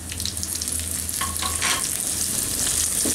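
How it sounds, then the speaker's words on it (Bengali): Chopped onion, garlic and cashew nuts fry in a pan, giving a steady close sizzle with occasional stirring scrapes and crackles throughout. "একটু ভেজে নিই।"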